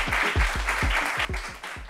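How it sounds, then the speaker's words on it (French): Studio audience applause welcoming a guest onto a French-language talk show set, steady dense clapping with a few strong low thumps, loud and close throughout. "On applaudit pour Bao Romaric, s'il vous plaît"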